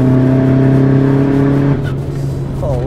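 A tuned Volkswagen Golf 4 TDI making 317 hp accelerates hard, its loud, close diesel drone holding a steady pitch and then dropping briefly as it shifts before climbing again.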